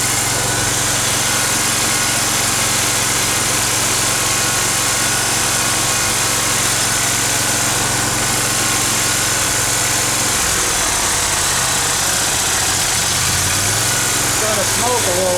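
Dixon 72 zero-turn mower engine, recently repaired after misfiring on one cylinder, running steadily close by with a loud droning hum, then settling into an idle near the end, with someone talking over it.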